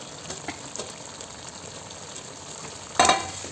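A pan of garlic chicken curry sizzles softly with a few light stirring scrapes, then a sudden louder burst of hissing as tomatoes are dropped into the hot pan.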